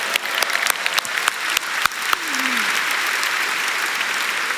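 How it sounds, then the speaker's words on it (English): Audience applause at a Canva Create product launch event, starting with a few scattered claps that quickly swell into steady, loud, full-room clapping sustained to the end, with a brief vocal whoop in the middle. "round of applause, absolutely"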